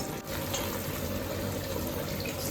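Cold water pours in a steady stream into a pot of cooked chicken, a continuous splashing hiss with no pauses.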